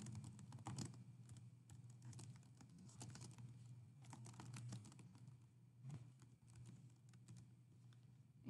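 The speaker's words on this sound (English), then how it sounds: "Type in my teacher's name." Steady, quiet tapping of keys on a computer keyboard as a name is entered into a school learning platform's message field, continuous soft clicks close by with no speech.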